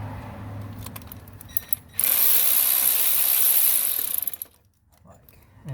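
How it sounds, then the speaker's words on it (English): An electric wrench works on a VW MK4 GTI during a K03s turbo upgrade, giving a loud, close, sustained whir of about two seconds after some lighter clicks and rattles. "electric wrench has been a lifesaver."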